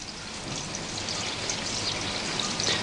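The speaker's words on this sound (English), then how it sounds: "The polishing debris is washed off using tap water" Tap water runs over a metal bearing sample to rinse off alumina polishing debris, a steady, close hiss of flowing and splashing water with no pauses.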